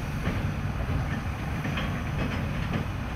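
A heavy train rumbles steadily across a brick and granite railway bridge, a dense, loud, continuous roar with faint rhythmic clatter from the wheels and no voices.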